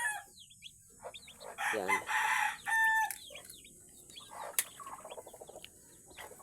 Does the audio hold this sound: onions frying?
no